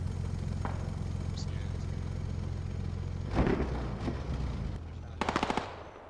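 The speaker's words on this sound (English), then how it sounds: "He's just been hit by some more HE frag coming out of the BMP." HE frag rounds fired from a BMP infantry fighting vehicle in the Squad military game, heard as a distant burst of impacts followed by a rapid string of gunshots over a low engine rumble.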